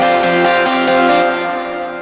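Sustained synth music chords drenched in a huge, open reverb wash, from an FL Studio project, with faint rhythmic pulses inside the dense tail, steady and loud before thinning out at the end.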